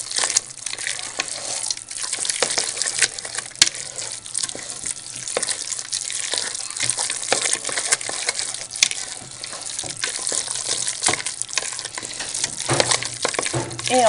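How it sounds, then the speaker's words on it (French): Stuffing mixture for turkey or capon, lukewarm with two eggs just poured in, stirred steadily in a bowl for about fourteen seconds, a continuous wet scraping and slapping with occasional sharper clinks, close and fairly loud with no talking. "On remue bien."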